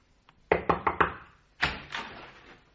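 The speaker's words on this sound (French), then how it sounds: "Le lendemain matin, il tambourinait à ma porte." Knocking on a door: a quick burst of four sharp, close raps, a short pause, then a couple of softer follow-up knocks in a quiet room.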